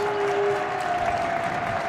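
Basketball crowd noise in a college gym, a steady broad roar of cheering and clapping spanning the whole short moment, with a faint sustained tone running through it and no clear talk.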